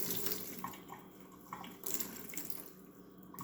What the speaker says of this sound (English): I want to squeeze it thoroughly because you don't want water to drip on the bread.